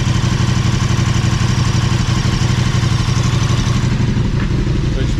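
KTM 1290 Super Adventure S engine idling during an oil change with Castrol oil, a loud, steady, rhythmic thrumming close by with mechanical clatter, running evenly throughout without voices.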